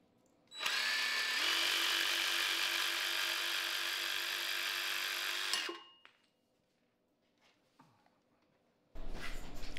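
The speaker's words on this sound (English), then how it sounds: "Drill some holes in it and then try and attach it with some epoxy." Power drill boring holes for an epoxy repair of a broken figure's arm, a steady high whine running about five seconds before winding down, followed by small handling clicks and a brief burst of noise at the end.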